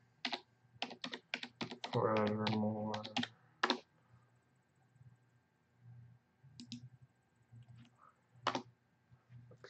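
Quick bursts of clicky computer keyboard typing, close and fairly quiet, come in short clusters, with a brief stretch of someone talking between them.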